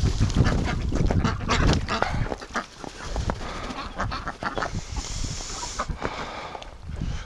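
Three ducks in the water kept by a duck breeder in late winter give repeated close quacks and honks over a busy splashing, rustling background.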